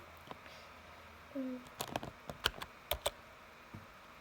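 Scattered keystrokes on a computer keyboard, light irregular clicks close by over a faint hum, with a brief soft murmur of voice partway through.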